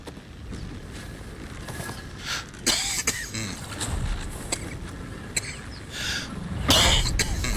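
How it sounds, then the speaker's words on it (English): A character in Baldur's Gate 3 coughs and clears his throat several times. The rough, close coughs come in scattered bursts over a faint background hum. "Sorry for the coughing."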